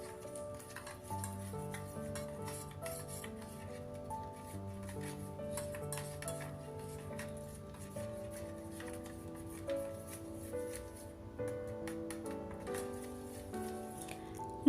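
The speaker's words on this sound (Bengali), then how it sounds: "মিশ্রণটাকেই একটা চামচের সাহায্যে খুব ভালোভাবে মিশিয়ে নেব।" A spoon mixing a mustard-coconut spice paste in a bowl, with light scraping and tapping clicks that come in short bursts over steady background music.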